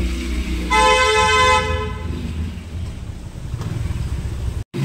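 A vehicle arriving sounds one loud, sustained horn honk for about a second, followed by the rumble of its engine and road noise nearby.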